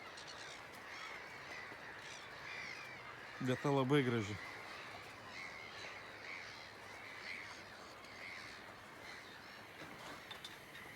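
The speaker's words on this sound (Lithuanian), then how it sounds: "vien žuvėdras klykia" A gull gives a harsh screeching call in the middle, set against a quiet outdoor background among reeds on Lough Neagh, with a voice speaking briefly.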